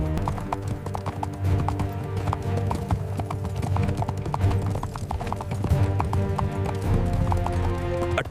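Horses' hooves clip-clop steadily as a small band of riders advances, many overlapping beats forming a dense, continuous trot with an occasional whinny, close and fairly loud.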